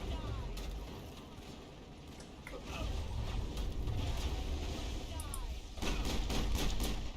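Sniper rifle fire in the Mass Effect video game, sharp cracking shots scattered over a rumbling battle backdrop, with several louder reports clustered near the end.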